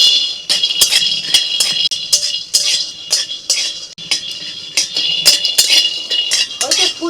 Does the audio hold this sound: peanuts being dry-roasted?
yes